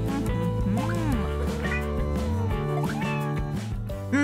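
A cat meows several times, its drawn-out, rising and falling cries sitting over steady background music.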